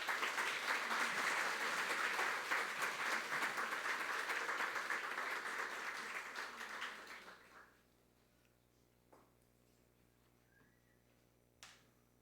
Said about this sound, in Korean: 우리 목사님 나오실 때 박수로 맞이해 주시기 바랍니다.